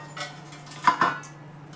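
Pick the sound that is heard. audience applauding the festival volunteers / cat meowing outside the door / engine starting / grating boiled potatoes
grating boiled potatoes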